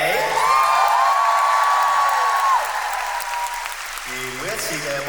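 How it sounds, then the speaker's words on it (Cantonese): A concert crowd at a Macau live show applauding and cheering, loud sustained clapping with whoops while a voice sings or calls over it, then thinning as music chimes come in. "俾啲掌聲自己"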